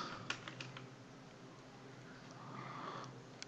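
Keys tapped on a computer keyboard while writing JavaScript code, a few distinct clicks early, then softer, quieter typing over a faint steady room hum.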